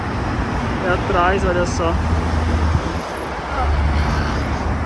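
A GT3 sports car passing on a São Paulo street, a steady roar of engine and road noise that swells and fades amid traffic, with people talking loudly over it.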